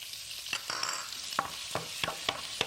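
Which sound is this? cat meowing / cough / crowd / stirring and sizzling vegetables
stirring and sizzling vegetables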